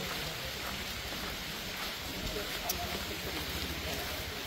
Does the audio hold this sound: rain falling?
yes